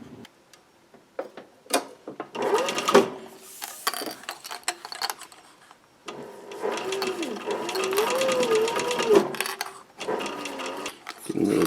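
A sewing machine stitches a newsboy cap seam in bursts of rapid, ticking mechanical whirring, with short pauses between runs and a longer steady run later on.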